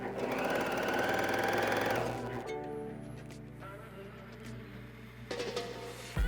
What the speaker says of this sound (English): And then just sew, and then put the seam in place as you go.